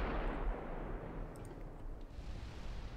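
Enemy warship guns fire in the naval battle game Ultimate Admiral Dreadnoughts, a continuous deep rumbling barrage of booms with a few brief sharper cracks, loud and without talk.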